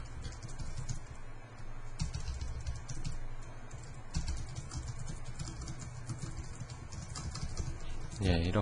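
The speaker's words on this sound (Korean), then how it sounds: "마이크 위치가 오늘 좀 안 좋아서 자꾸 타이핑하는데 좀 걸리네요" Quiet, steady tapping of keys on a computer keyboard while entering code, a continuous patter of soft clicks heard from a slight distance.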